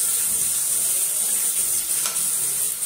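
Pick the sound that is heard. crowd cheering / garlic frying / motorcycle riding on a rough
garlic frying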